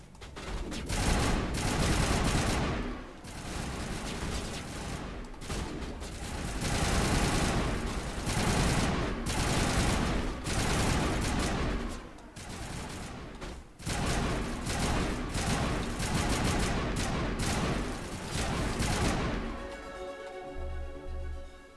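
Sustained gunfire in the sci-fi shooter game Mass Effect Legendary Edition, dense automatic bursts and rattling volleys that run almost continuously and loud, pausing briefly a few times before trailing off into a quieter electronic tone.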